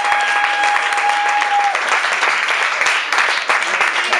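An audience at a club showcase applauds an indie pop band, dense, loud clapping that holds steadily for about four seconds, with a brief steady tone at the start.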